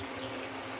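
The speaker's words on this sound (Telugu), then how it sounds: "కొద్దిగా నీళ్ళు పోసి పెట్టేయాలండి" Water pours steadily into a pan of brinjal and tomato curry, a close, continuous rushing flow without pauses or voices.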